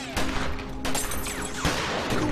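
Cartoon gunfire in an animated time-travel adventure set at London's Crystal Palace: several sharp, loud bursts of shots ring out close by over a steady background din, with no talking.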